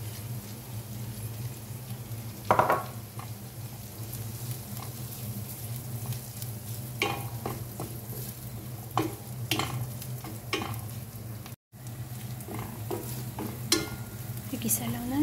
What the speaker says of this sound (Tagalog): Igisa lang natin hanggang maghalo-halo yung ating ginisang bawang at saka sibuyas sa ating karne.